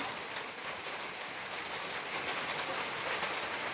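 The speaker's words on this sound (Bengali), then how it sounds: "হঠাৎ করে বৃষ্টি এসছে দেখেন আবহাওয়া কেমন ঘুলোটা বৃষ্টি পড়ছে" Steady rain falls over rice paddies where farmers are planting, a dense continuous hiss of drops filling the scene at close range with no talk.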